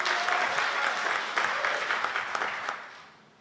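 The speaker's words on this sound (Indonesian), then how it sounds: "Beri tepuk tangan dulu untuk Tuhan kita." A congregation claps together during a church worship service in Batam, a dense burst of applause that fades out over a few seconds.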